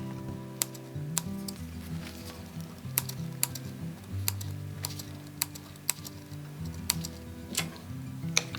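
Scissors make repeated small snips into the curved seam allowance of fabric for a bag, faint and close, with crisp irregular clicks about every half second over quiet background hum.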